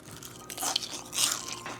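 Biting into fried hashbrowns gives a few close crackly crunches followed by chewing, moderately loud over a quiet background with no talk.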